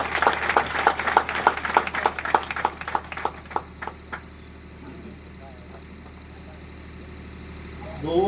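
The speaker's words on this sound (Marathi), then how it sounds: "सगळ्यांना विनंती बापूच्या सन्मानार्थ जोरदार टाळ्या झाल्या" An audience at a Marathi poetry gathering claps in tribute, a burst of brisk hand claps that thins out and fades after about four seconds into a quiet hall, with a voice starting faintly at the end.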